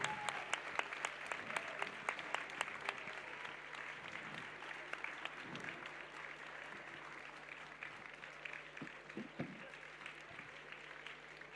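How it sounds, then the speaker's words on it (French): An audience claps steadily at a spa massage championship final, cheering three finalists. A moderate round of applause, fairly distant and thinning out over several seconds, with a few scattered late claps. "vous pouvez les applaudir bien fort"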